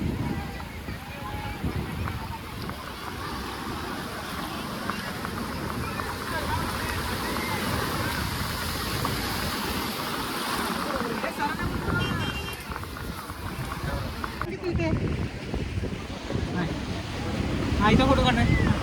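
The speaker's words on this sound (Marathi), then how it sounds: "आता आम्ही चाललोय बोटीतून फिरायला" A boat ride on the open sea along the Konkan coast between Alibaug and nearby shores, with steady engine and water rush, wind buffeting the microphone, and people talking over it throughout.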